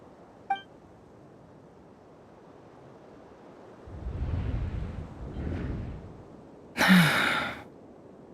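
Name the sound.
Yehuda gasping, Genshin Impact video game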